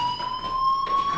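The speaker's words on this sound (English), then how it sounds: "do you hear that fire alarm?" Fire alarm ringing in the video game Life Is Strange: a steady, piercing electronic tone held throughout, loud and continuous with no talk over it.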